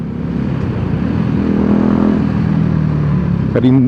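A BMW G 310 GS motorcycle engine runs steadily on a ride in Bali, Indonesia, a continuous loud drone with slight shifts in pitch and a brief clattering burst near the end.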